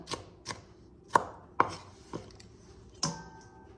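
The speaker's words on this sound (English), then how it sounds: "I'm not professionally chopping these" A knife chops through vegetables on a board in six sharp, unevenly spaced thuds, close and clear, with no talking.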